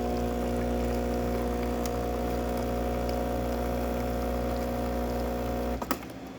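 A Breville espresso machine, freshly serviced and tuned up, hums steadily while its pump drives a shot, then cuts off with a sharp click near the end.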